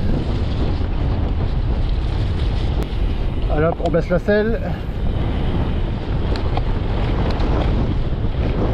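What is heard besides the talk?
headwind while cycling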